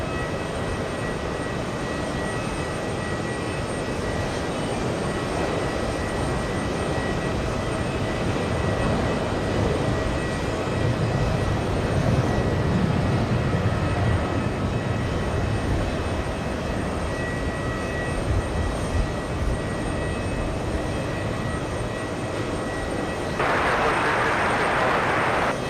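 El Al jet taking off from JFK bound for Tel Aviv, a steady loud roar of engines holding for the whole stretch, broad and rumbling, with a brighter shift near the end.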